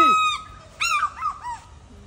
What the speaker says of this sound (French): Aigle crie encore! Ça c'est l'aigle pêcheur.